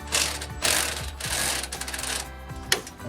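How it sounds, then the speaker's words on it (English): A wrench working the 18 mm nut on the upper ball joint of a 2019-2024 Chevrolet Silverado 1500, a quick close ratcheting clatter of pawl clicks in repeated bursts, with no talking. "we're gonna get this guy off with an 18 mil"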